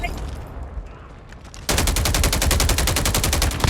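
Gunfire in the mobile game Call of Duty Mobile: a rapid, loud burst of automatic shots starts abruptly partway through and hammers on steadily to the end, after a quieter stretch of game noise.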